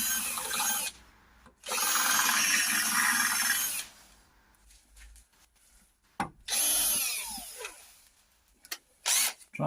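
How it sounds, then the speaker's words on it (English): A power drill bores into the reclining seat mechanism of a Simca Aronde Plein Ciel in several loud, close bursts. Each whining run lasts a second or more, with quiet pauses between them. "Try to drill with a point on it."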